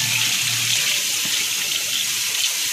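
Tap water runs steadily into a sink while rice is rinsed several times for Persian rice with tahdig, a continuous close hiss with no talk.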